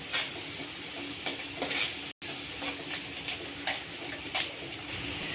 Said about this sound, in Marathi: मिरची टाकून कांदा चांगला भाजून घ्यायचा